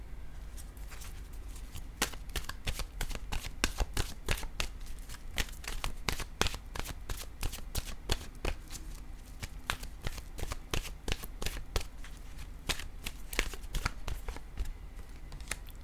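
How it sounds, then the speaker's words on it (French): An oracle card deck is shuffled by hand in continuous quick riffling snaps and rustles, close and fairly loud, with no talking. "je vais piger une carte de mon oracle de l'âme intuitive"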